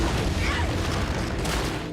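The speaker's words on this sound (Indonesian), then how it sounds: "ruangan yang dituju Aoshi meledak sehingga membuat Aoshi luka parah" A room explodes in a scene from a Rurouni Kenshin film, giving a loud, dense, sustained roar and rumble that fills the whole two seconds before it thins slightly at the end.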